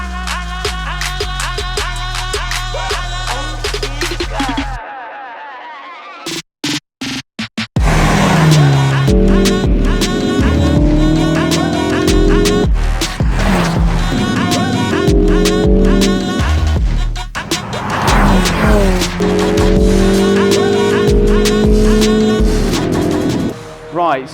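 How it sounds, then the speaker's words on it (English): A stock Mini F56 John Cooper Works lapping a race track: its engine note loudly rises and falls through gear changes, with a brief break before the sustained drive resumes. "So we're going to hit at the track now and get some laps in"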